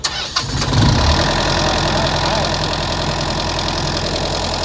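A Kubota 25 kVA diesel generator cranks briefly and fires, then settles into a loud, steady idle with a dense mechanical drone that fills the rest of the clip.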